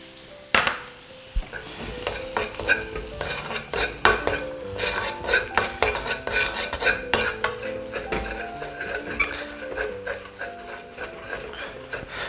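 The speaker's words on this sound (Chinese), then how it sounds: "把这个蛋黄炒到这种翻砂的状态" Salted egg yolk stir-fried over low heat with minced ginger, garlic and scallion in a wok: continuous close sizzling with frequent scraping and clinking spatula strokes against the pan, no talk.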